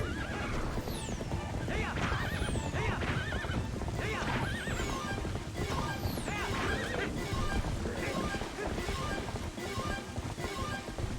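Horse neighing and whinnying in the video game Twilight Princess, several calls over steady galloping hoofbeats, loud and close, with game music and effects underneath.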